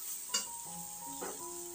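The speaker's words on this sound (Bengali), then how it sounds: "মানে একটু যখন ভাজা ভাজা হয়ে যাবে বেগুনটা তখন লবণ হলুদ দিয়ে দিলাম।" Eggplant frying in a pan after salt and turmeric are added, a soft low sizzle with a couple of brief spatula scrapes against the pan, quiet and close.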